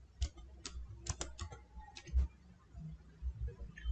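Fingers tap a computer keyboard in a quiet room, about a dozen sharp, uneven key clicks over a few seconds with no talking.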